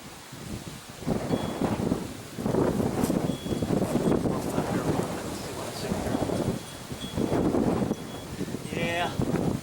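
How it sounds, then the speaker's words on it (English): Strong gusty wind roars through rustling trees during a Texas storm, rising and falling in long surges with loud buffeting on the microphone, and a faint bird-like chirp near the end. "But those trees are making a lot of noise."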